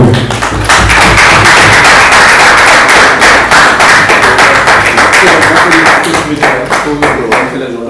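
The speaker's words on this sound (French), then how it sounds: "on applaudit pour le travail" A crowd at a gathering of international entrepreneurs applauds, dense and loud rapid clapping that fills the whole stretch, with scattered sharper claps standing out and voices faintly mixed in, tapering slightly at the end.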